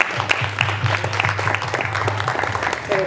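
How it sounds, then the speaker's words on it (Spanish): An audience applauds a musician at a talk event, a fairly loud, steady patter of many hands clapping throughout, with a low hum underneath and a faint tone near the end. "Y un aplauso para Lalo"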